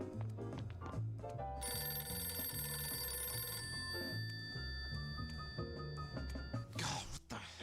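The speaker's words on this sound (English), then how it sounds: "I should try calling him from the office phone." An office desk phone in the Deliver At All Costs video game rings with a steady electronic trilling bell in repeated bursts, sitting over a low looping background music bed with no talking.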